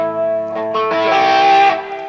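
Electric guitar distortion from a TomasZewicz TZZ 35H amp with the preamp drive set very low, a loud sustained chord that rings and thickens, then fades off near the end.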